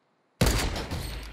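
A sniper rifle gunshot in the Fortnite video game, a loud sudden blast after silence that rings out and decays over about a second, with no talking.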